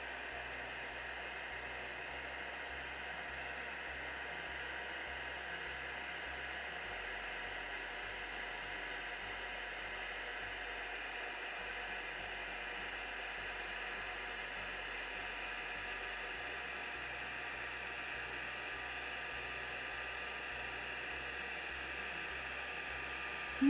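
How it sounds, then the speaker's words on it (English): Heat gun for embossing running steadily in a quiet room, a continuous airy blowing hiss with low hum, unchanging for the whole stretch and without any talk. "as I warm the heat gun up"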